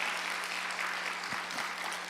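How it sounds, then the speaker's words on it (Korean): A church congregation applauds its youth group during a special early-morning prayer service, a dense, even wash of clapping throughout with a couple of low thumps near the end. "수고한 우리 청년부 또 한번 박수로 격려하겠습니다"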